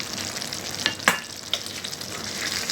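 Brinjal masala frying in a karahi over medium heat, a steady soft sizzle broken by a few sharp clinks and scrapes of a spoon stirring, close and moderately loud.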